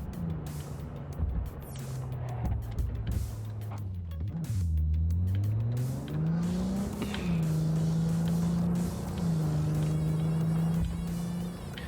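A car driving in the video game Cyberpunk 2077, a loud engine tone rising and falling through gear changes, close and continuous, with no voices.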